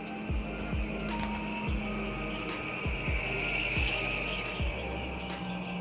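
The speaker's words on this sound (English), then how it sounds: "They've got to fix their brakes or something." A car outside squeals its brakes as it passes, a harsh high-pitched screech mixed with the rush and low rumble of vehicles on the road, sounding continuously for several seconds at moderate distance.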